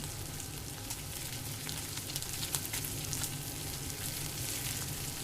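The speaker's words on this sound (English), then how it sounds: "We will have to put it on the grill. And then let it cook for some time." A steak sizzles on a grill in the VRChat video game, a soft, steady crackle of frying that continues evenly throughout with small spits and pops.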